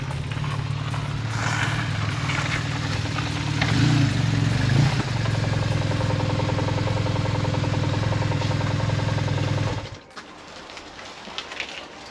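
BMW R1150GS motorcycle running on a ride, a steady loud engine drone with a low throb that cuts off abruptly near the end, leaving quieter background noise.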